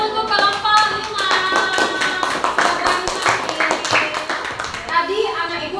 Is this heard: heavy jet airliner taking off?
no